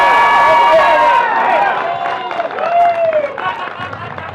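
A crowd at the May 2020 Utah Business Revival applauds and cheers after a speech, with clapping and raised voices filling the room, then thinning out.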